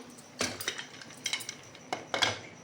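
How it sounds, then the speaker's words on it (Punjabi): A metal lid clanks onto a pot of boiling dal, with a few sharp clinks and knocks spread across a couple of seconds, close and moderately quiet. "ਹੁਣ ਇਹਨੂੰ ਆਪਾਂ ਲਾਵਾਂਗੇ ਜੀ ਢੱਕਣ"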